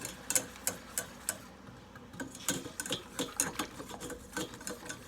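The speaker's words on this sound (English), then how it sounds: "Add some milk. Use the whisk here." A whisk beats milk into a beef bourguignon sauce in a pan, giving quick, rhythmic metallic ticks and soft liquid swishes. The strokes are close-up and fairly quiet, with a brief pause partway through and no speech.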